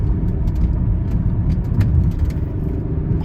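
A 1993 Ford Probe GT is driven in third gear, its engine giving a steady, loud low drone from inside the car with road rumble and small rattles, and nobody speaking.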